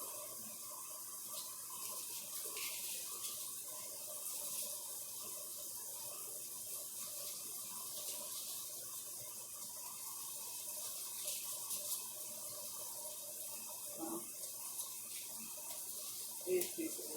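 Tap water runs in a steady faint hiss into a bowl of roughly chopped vegetables for Sunday dinner, with a few soft clinks and splashes and a voice speaking now and then.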